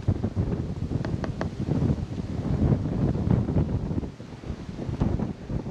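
Strong wind buffeting a microphone outdoors during a motorcycle trip, continuous gusty low roar and rustle with fluctuating loudness and no talk.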